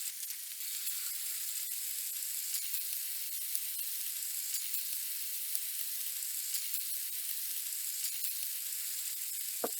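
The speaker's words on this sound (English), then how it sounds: "let's saute some scallions. And I like to do it in olive oil." Scallions sautéing in olive oil in a pan, a steady close sizzle that holds level the whole time with faint crackles and no talking.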